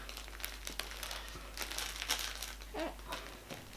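A baby's crinkly playmat gives off soft, scattered crinkles and rustles as it shifts, quiet and irregular, with no voices.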